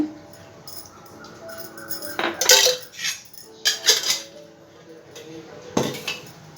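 A metal spoon clinks and scrapes against a kadai set on a lit stove with a little oil in it, sharp metallic taps coming in short separate bursts over faint background noise.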